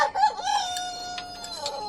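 Chickens cluck and a rooster crows close by, a short burst of farmyard bird calls with no voices.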